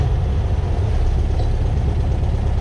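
A 1967 Volkswagen Bug's air-cooled engine idles steadily and close by, a dense low rumble with an even, unbroken loudness throughout and no voices.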